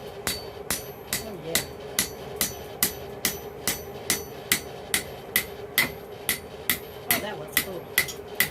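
Steady hammer blows ring out on an anvil as a forged steel tentacle is worked from 5/8 bar, about twenty sharp evenly spaced strikes close by, with a few brief spoken words between them.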